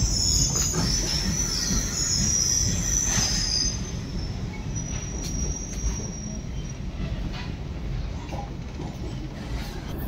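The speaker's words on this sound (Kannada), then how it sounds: "So we are waiting for the train in Baiyappanahalli station." An electric train pulls into Baiyappanahalli station in Bangalore with a loud, shrill wheel squeal over a deep rolling rumble that eases as it slows.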